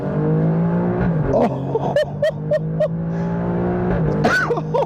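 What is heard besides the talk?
Alfa Romeo Stelvio Quadrifoglio engine accelerating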